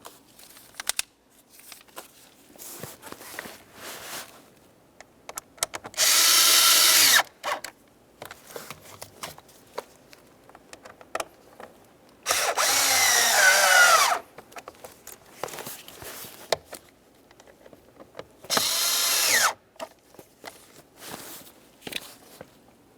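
Three bursts of a power drill whirring loudly as it drives screws into the plastic blower motor housing of a 2006-2011 Honda Civic, separated by quieter clicks and handling noises.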